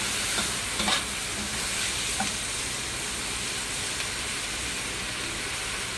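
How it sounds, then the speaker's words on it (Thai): Sweet and sour seafood with bell pepper and cucumber being stir-fried in a pan: a continuous dense sizzle and crackle, with a few faint scraping stirs near the start. "แล้วก็ผัดให้เข้ากันนะคะ"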